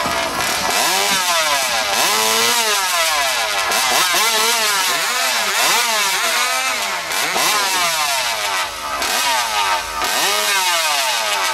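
At a chainsaw competition in Saint-Célestin in 2017, a chainsaw with a modified exhaust runs loud and close for over eleven seconds, its engine repeatedly surging and bogging in rapid, rising and falling pitch sweeps as it cuts.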